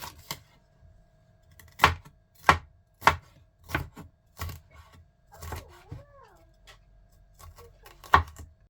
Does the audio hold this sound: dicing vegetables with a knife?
yes